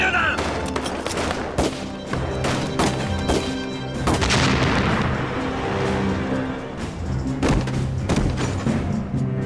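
Blast demolishing a cave during a wartime ambush on Japanese troops: a loud, dense barrage of booms, thuds and gunfire-like bursts runs throughout, with a brief shouted voice early on.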